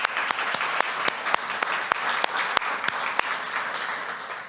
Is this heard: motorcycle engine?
no